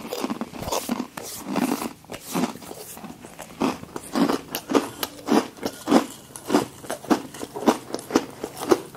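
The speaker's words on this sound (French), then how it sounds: "On grignote des bonnes céréales à la cannelle." Cinnamon breakfast cereal crunched in the mouth close up, a steady run of crisp, loud bites and chewing crunches repeating roughly every half second with no talking.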